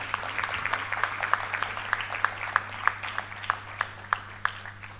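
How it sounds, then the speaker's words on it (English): Audience applause for awardees at a university graduation ceremony, a faint, thin spread of clapping with distinct individual claps standing out in a steady rhythm over a low hum. "One more round of applause for all the awardees"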